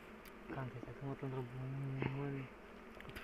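Flies buzz in steady, droning hums that swell and fade nearby, with faint voices talking in the background.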